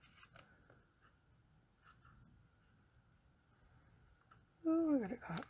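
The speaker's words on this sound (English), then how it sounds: "just turn it over and use my paper snips" Paper snips cut tape while it is fastened to a Halloween zombie coffin craft, giving a few quiet, sparse clicks and snips close by, followed by a short burst of talking at the end.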